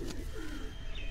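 A caged pigeon at a farmhouse gives one close, loud, throaty coo with a rolling, wavering tone.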